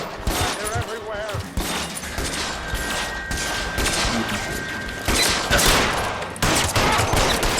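Gunfire in the video game L.A. Noire comes in rapid bursts and scattered shots, with loud cracks and thuds packed close together over background game sounds.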